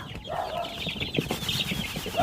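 Young game fowl chicks, about 22 days to 4 months old, chirp and peep continuously at close range while they are being fed, with some soft clucking mixed in and no talk.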